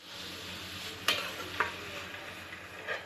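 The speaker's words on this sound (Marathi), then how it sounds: "मसाला बघा फ्राय करत आहे." Spiced masala fries in a pan, a faint, even sizzling hiss with a couple of brief clinks of a spoon stirring.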